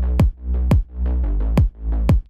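Electronic bass line sidechained to a kick drum in FL Studio at the default release setting: four punchy kicks, each ducking a loud sustained bass that swells back up between hits in a pumping rhythm.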